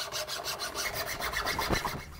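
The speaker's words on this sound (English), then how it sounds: "I'm gonna use a little rat tail file or a little chainsaw file to go ahead and just follow that line." A small rat tail file rasps against hickory while cutting a bowstring groove into a self bow, producing quick, even back-and-forth strokes that are close and steady, with no voices.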